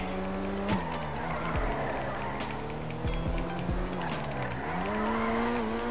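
A Mazda RX-7 VeilSide drifting in GTA V: engine whine rises and falls while tires squeal in several sharp skids, close and continuous with revving gear changes throughout.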